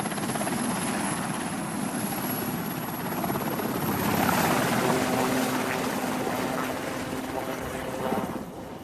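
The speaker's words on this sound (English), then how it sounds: "that he lands before the helicopter." A helicopter comes in to land, its loud, steady rotor roar and whine filling the whole stretch without a break, with a faint voice briefly audible beneath it.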